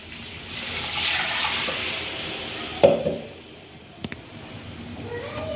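Water is poured into a coconut and coriander masala paste for chicken rassa, giving a close rushing pour for a few seconds, then a thump and a couple of small clinks, with no talk.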